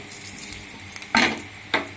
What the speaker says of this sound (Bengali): কড়াতে পরিমাণ মতো তেল দিয়ে 2টো শুকনো লঙ্কা ছেড়ে দিলাম। লঙ্কাগুলোকে একটু ভেজে হালকা করে ভেজে নেব।